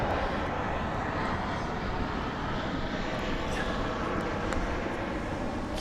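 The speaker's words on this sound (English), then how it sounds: "We should have done this at 3 a.m. with no planes, right?" A propeller or jet airplane roars overhead as a steady, broad rumble lasting several seconds, loud and continuous outdoors, with no speech over it.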